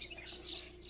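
A small bird perched high at a hill viewpoint near Coonoor gives a quick series of faint, thin chirps over a steady background hum.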